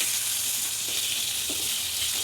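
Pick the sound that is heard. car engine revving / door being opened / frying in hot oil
frying in hot oil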